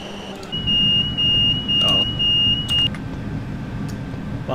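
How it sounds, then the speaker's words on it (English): A train driver's vigilance device alarm in Train Simulator 2019 sounds as a steady high electronic tone in several long repeated pulses over a continuous rumble of a moving train. "one thing this train does have is the DVD, which I think you can disable"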